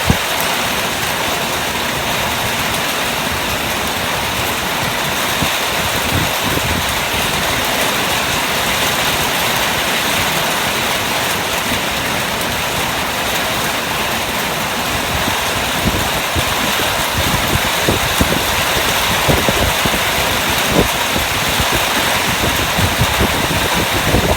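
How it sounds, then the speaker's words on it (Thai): Heavy rain pours steadily at night outdoors in Thailand, a dense, continuous hiss close by that runs the whole time with no pauses and no talk. "ฝนตกหนักนะครับ"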